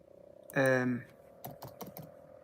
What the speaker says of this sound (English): if I go on to BBC Weather and type in